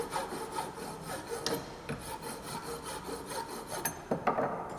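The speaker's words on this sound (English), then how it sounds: "it has been rotated, and again the rough filing is done." A hand file rasps across a metal workpiece during rough filing, repeated scraping strokes in an uneven rhythm, close and fairly quiet, with no voices.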